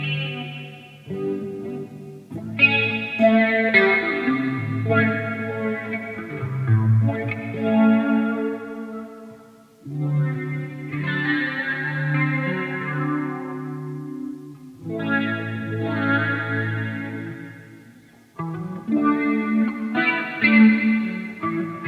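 Electric guitar played through a Morley wah effect on a Headrush Flex Prime multi-effects unit, with sustained chords and phrases in several bursts separated by short pauses, sweeping in tone and thick with chorus and distortion.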